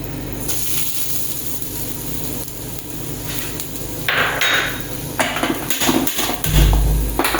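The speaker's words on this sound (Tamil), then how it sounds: "இப்போது தேங்காவை நெய் விட்டு வறுத்துக்கலாம்" Grated coconut roasting in ghee in a pan: a soft continuous sizzle with scattered clanks and scrapes of a spoon against the metal pan, close by, plus a brief louder thud near the end.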